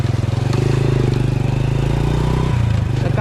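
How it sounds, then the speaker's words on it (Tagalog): A 12-year-old Honda 100 motorcycle engine runs steadily while riding on a Philippine road trip, a loud, continuous low thrumming drone with a brief shift in pitch near the end. "Ang ating motor po eh Honda"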